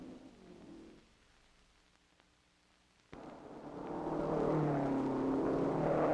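A 1961 Ferrari TDF race car nears the finish line at the Grand Prix d'Europe road race. Its engine is muffled for a moment, then returns suddenly and swells to a loud, sustained drone.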